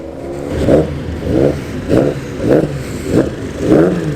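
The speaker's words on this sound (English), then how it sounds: "There's a Vauxhall touring car. It's actually running now." A Vauxhall touring car engine runs loudly at close range at a circuit, pulsing in regular surges about every half second, like repeated blips of the throttle.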